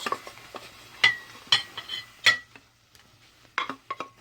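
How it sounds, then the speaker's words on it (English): Sautéed pheasant-back mushrooms being plated, with several sharp clinks of utensils against dishes and pans spaced across a few seconds, close and fairly clear with short quiet gaps between. "now I'm just going to go ahead and plate this"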